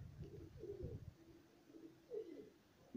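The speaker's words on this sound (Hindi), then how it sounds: "ये देखे माशाल्लाह, एक दफा तो आसमान पे कबूतर ही कबूतर बन गए।" Pigeons coo softly in a few low, throaty phrases at a moderate distance, fairly faint with quiet gaps between calls.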